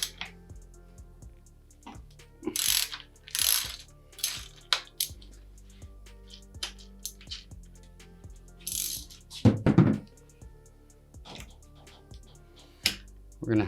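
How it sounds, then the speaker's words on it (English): A 15 mm socket wrench works loose a bicycle axle nut during a freewheel change: sparse metallic clicks and small ratcheting bursts, close and crisp, separated by quiet pauses, with a louder rattling cluster near the end. "so I got my 15 socket. I'm gonna loosen this guy up"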